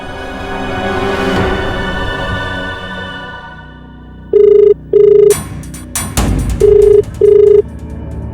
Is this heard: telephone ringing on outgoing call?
yes